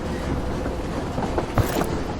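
A locomotive rolls steadily in the video game Void Train, upgraded from a simple trolley to a diesel or Tesla engine, giving a constant loud rumbling drone with faint clanks and a brief metallic squeal partway through.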